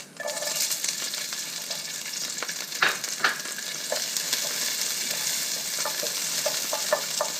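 Chopped garlic sizzles in oil in a pan with a close, steady crackle, punctuated by a few sharper spatula clicks and pops.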